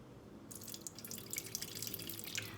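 Water runs from a tap into a Thermomix bowl for focaccia dough, a steady faint splashing stream that starts abruptly and continues without voices.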